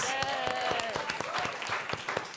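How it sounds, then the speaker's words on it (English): Applause from an audience at a community event on NFTs, steady clapping with sharp individual claps standing out, with a sustained tone and some voices mixed in. "give yourselves a round of applause"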